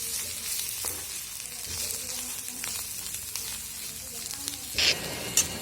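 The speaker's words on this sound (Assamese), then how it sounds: "এতিয়া মই ইয়াত পিঁয়াজখিনি ভাজি থাকোঁতে অথনি লোৱা মছলা আৰু নহৰু আদা পেষ্টখিনি ইয়াত দি এইখিনি অলপ দেৰি ভাজি ল'ম।" Onions frying in a pan with spices and garlic-ginger paste, a steady close sizzle throughout with a brief louder spatter near the end.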